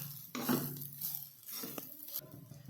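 A spoon stirs onions into a jeera rice mixture in a pan, giving soft scraping and clinking strokes with a faint sizzle underneath, close and fairly quiet, with no talk.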